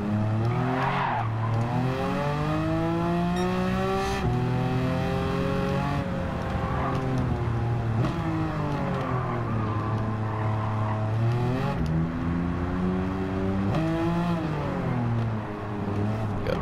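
Porsche-engined Volkswagen Beetle in Gran Turismo 7 drifting, its engine droning and rising and falling steadily while tires squeal and skid, loud and continuous throughout.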